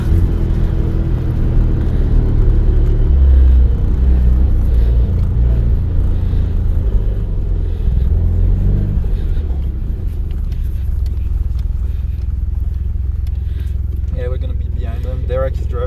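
A car drifts on the frozen surface of Yachiho Lake in Nagano, with a loud, steady low engine rumble and road hum heard from inside the cabin, while people talk over it.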